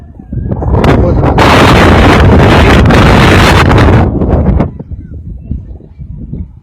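Strong tornado wind roars and buffets the microphone loudly for several seconds, then eases off into weaker, uneven gusts.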